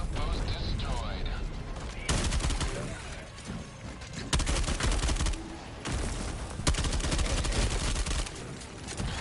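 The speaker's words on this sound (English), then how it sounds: "Requesting orbital strike!" Orbital strike explosions and heavy gunfire from the Helldivers 2 video game, with loud blasts landing in bursts over steady rapid shooting and in-game voice callouts.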